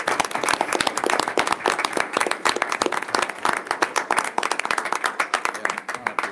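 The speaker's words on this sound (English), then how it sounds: "Give a round of applause." Applause from an audience at a school board meeting, welcoming the girls basketball team forward: dense, steady clapping close by for several seconds, with a few voices mixed in.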